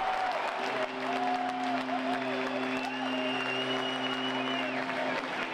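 Football crowd cheering and applauding loudly after a goal in a German match, a steady dense roar with sustained horn-like tones running underneath throughout.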